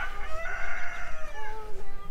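A chicken on a farm gives a drawn-out, wavering call, close and fairly loud, fading into softer clucks with no talk over it.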